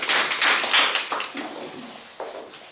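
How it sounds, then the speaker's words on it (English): A toastmasters audience gives a short round of applause for speaker Adrian, the clapping loudest at first and then thinning out and fading. "A big round of applause for Adrian."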